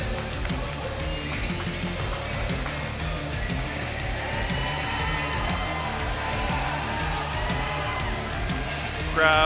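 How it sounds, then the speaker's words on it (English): Arena crowd at a Sparta 75 fight night cheering steadily as a fighter makes his walk to the cage, a dense, sustained roar under a commentator's voice. "Crowd letting him know they appreciate his work and him being here this evening."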